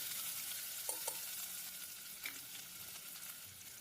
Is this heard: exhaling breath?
no